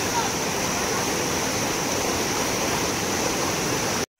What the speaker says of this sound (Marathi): पाण्याला स्पीड बघा कसला आहे.